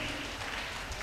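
A congregation claps loudly and steadily at a healing prayer service, a dense continuous wash of applause filling the short moment.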